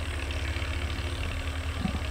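A tractor engine idles close by with a steady low rumbling throb, mid and low tones churning continuously and evenly throughout, with no voices over it.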